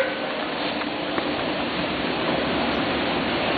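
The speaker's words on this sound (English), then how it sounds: "Here have several slurry pumps." A slurry pump runs with its motor on the base, producing a constant, dense rushing drone like flowing water, steady and loud throughout, with no speech.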